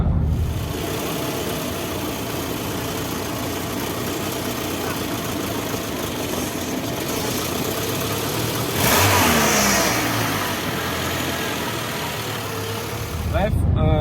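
A Renault 19 Cabriolet engine runs roughly, a steady mid-pitched drone with a surge partway through, heard close under road and cabin noise.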